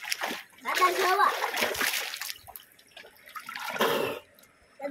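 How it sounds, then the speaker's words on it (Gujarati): A child splashes water at a riverbank, with bursts of splashing and dripping spread across the moment, while a voice talks over the splashes. "દાદા હવે જોવાની તમારે કેવું પાણી ઉડાડું છું"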